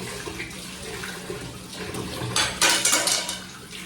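Water poured from a tap into dirty cooking pots to soak, a steady splashing stream that turns louder and brighter near the end as it hits the metal pots.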